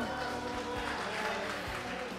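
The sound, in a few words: audience applause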